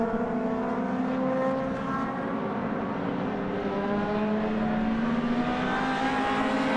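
Honda Civic race cars in a one-make cup race at Brands Hatch circuit, several engines droning and revving together at steady high pitch, continuous and fairly loud with shifting tones as cars pass, no talk.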